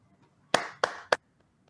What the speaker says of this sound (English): with a virtual round of applause